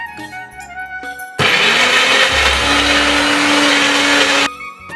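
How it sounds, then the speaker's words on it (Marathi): An electric kitchen mixer grinds vegetables and lime into a paste for shevla bhaji, cutting in with a loud, steady whir for about three seconds before stopping, with quieter kitchen background before and after. "वाटून आता वाटते ये भाजीला"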